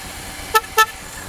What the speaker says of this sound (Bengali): আফটার মার্কেটের হর্ন লাগানো, ঠিক আছে।